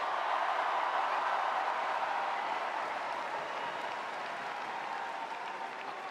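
A basketball team and gathered people applaud in a room, a continuous, fairly distant wash of many hands clapping that stays even and slowly softens over several seconds.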